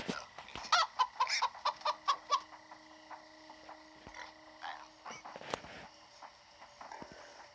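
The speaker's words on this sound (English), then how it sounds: "Oh, chicken." A chicken clucks in the video game Minecraft Story Mode, a rapid run of close, bright clucks at first, then sparser calls and clicks over a quiet ambient tone.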